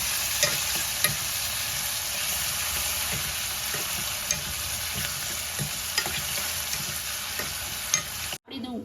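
Chopped onion and tomato fry in a pan, giving a steady loud sizzle throughout, with regular scrapes and taps of a stirring spoon, close up.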